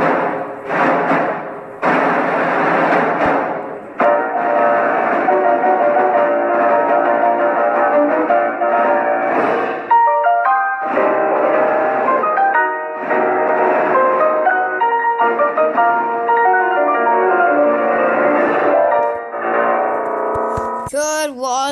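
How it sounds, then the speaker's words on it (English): A 20th Century Fox fanfare rendered on piano in the gentle, jazzy style of the Peanuts movie, with full chords and melody lines ringing out loud and steady for about twenty seconds with no talking. "And why is there the Peanuts movie piano sound like this?"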